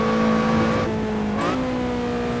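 Lotus Exige 240R engine on the Nordschleife during heel-and-toe braking: a loud, steady engine drone drops in pitch, then a quick blip rises as the revs climb again before settling at a lower tone.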